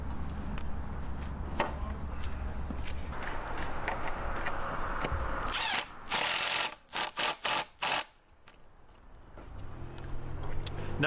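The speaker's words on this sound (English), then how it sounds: "We're going to install some lag bolts and bolt it into place." Lag bolts are driven into a shaped, finished wooden cross member of a garden arbor: bursts of ratcheting and mechanical whirring, a few seconds of loud driving in short repeated pulses, with quieter handling noise before and after.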